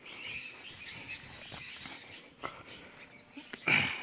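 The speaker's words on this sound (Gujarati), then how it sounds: "અને ફરતી સાઈડ પક્ષીઓનો કલરવ દેખાય," Birds chirp and call around a cow shelter set in a wooded garden, scattered tweets near and far over a soft outdoor background, with a louder burst near the end.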